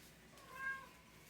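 A cat gives one short, clear meow at moderate volume against a quiet background, with no talking.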